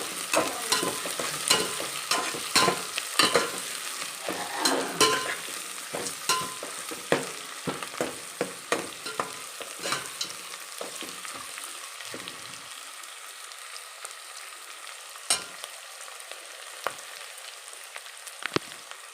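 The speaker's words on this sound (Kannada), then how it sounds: "ಚೆನ್ನಾಗಿ ಈರುಳ್ಳಿ ಎಲ್ಲ ಫ್ರೈ ಮಾಡ್ಕೋಬೇಕು" Onions fry in a pan for soya and vegetable pulao while a spoon stirs them, scraping and clinking in uneven bursts over a crackling sizzle that thins out toward the end, with no talking.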